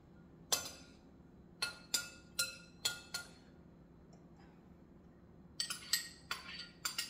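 Onion pieces dropping into a glass bowl of raw breakfast salad, a series of sharp, close clinks in two clusters with a quiet gap between them.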